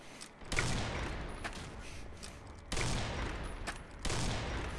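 Gunfire in the Combat Arms shooter game comes in dense, loud bursts, two sustained volleys of rapid shots separated by brief pauses, filling the whole stretch with no clear talking.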